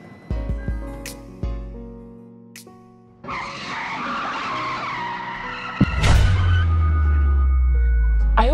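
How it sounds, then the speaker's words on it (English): A car brakes hard on a road, its tires skidding with a loud, sustained squeal that rises sharply and holds to the end, preceded by brief music-like tones. "If I didn't hit the brakes in time, only God knows what would have happened."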